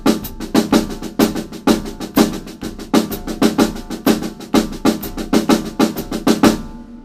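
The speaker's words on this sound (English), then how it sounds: "play the same line playing alternate triplets with my hands and accenting the melodies that are written" A drum set played with alternating triplet strokes on the hands and accented melody notes, a fast continuous rhythmic pattern of drum and cymbal hits, close and loud, ending abruptly with no talking.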